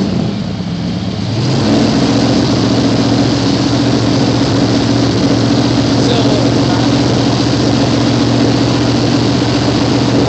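A 1986 Chevy K10 engine heard through its exhaust, recently fitted with new plugs and distributor, starting up and then rumbling loudly and steadily at close range without stumbling, with people talking over it.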